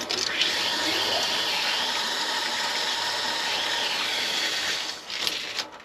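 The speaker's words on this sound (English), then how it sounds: "I will open this ball valve to get to 40 psi" Steady broadband rush of water flowing through an opened irrigation ball valve, constant and fairly loud for several seconds before tapering slightly near the end.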